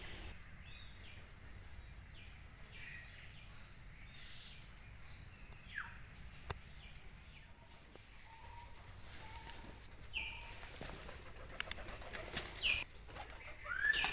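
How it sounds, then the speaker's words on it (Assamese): Birds coo and chirp around the Ramchandra ashram in a tea garden. The calls are faint and scattered, some cooing like pigeons, over a soft background, with a slightly louder flurry at the end. "এই যে চৰাইবোৰৰ মাত যে শুনি আছে"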